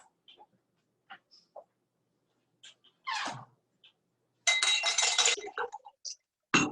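Ice cubes dropped into two glasses for a ginger beer drink in a home kitchen make scattered faint clinks, then a brief denser rattle of ice, quiet and close.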